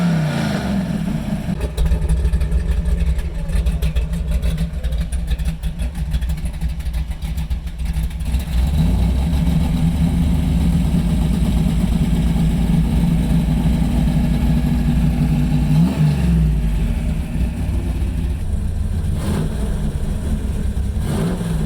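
A 1971 Oldsmobile Cutlass muscle car engine runs loud and close, a deep, lumpy idle that swells into throaty revs and settles again.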